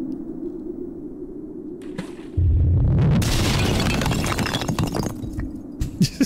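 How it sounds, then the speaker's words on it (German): A hand grenade blast breaks up ice in the hidden-object game Mystery Trackers, landing as a sudden loud boom with a low rumble, then a bright crackling spray of debris that slowly settles, with a few sharp pops near the end. "Die Explosion hat das Eis aufgebrochen und das Wasser fließt wieder."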